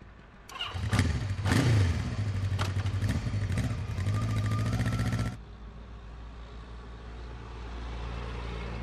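A motorcycle engine revs hard close by in several rising and falling bursts, holding at a steady high rumble before cutting back to a low, quieter idle.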